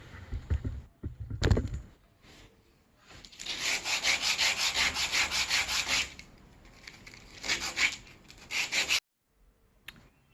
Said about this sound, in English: a couple things with sanding that didn't take very long to do most of these pieces here